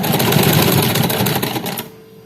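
An electric sewing machine stitches a shirt collar in a fast, even mechanical rattle for nearly two seconds, then stops abruptly, leaving a faint hum.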